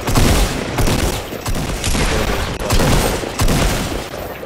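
Rapid gunfire bursts in the video game Fortnite, loud and close, with repeated volleys and sharp shots tumbling over one another almost without pause.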